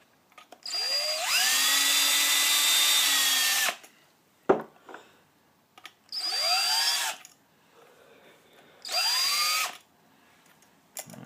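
A Lee case trimmer driven by a power drill trims and chamfers rifle case necks in three loud whirring bursts, the first long and two shorter, separated by quiet clicks and handling.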